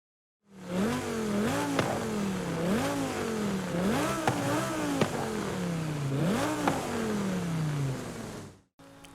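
A car engine in Forza Horizon 5 revs up and drops back in repeated rising sweeps, with sharp exhaust backfire pops cracking through near the peaks, loud and close, before cutting off abruptly.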